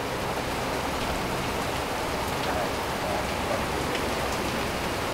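Steady rain falls at a dock in the Bahamas, giving an even, moderately faint hiss of drops hitting surfaces with no voices.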